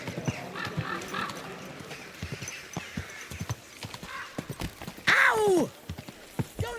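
Horse hooves clip-clop steadily at a walking pace in the medieval open world of Kingdom Come: Deliverance II, with a short sharp whinny-like cry breaking in partway through.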